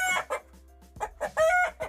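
A rooster held inside a shed crows and clucks in short, loud, close bursts separated by brief pauses.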